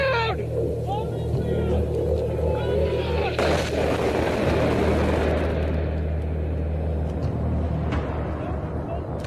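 Bombs exploding in a war movie: a heavy, rumbling roar builds and sustains, with shouted voices over it.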